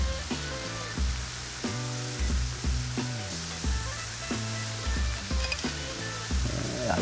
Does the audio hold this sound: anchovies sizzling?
yes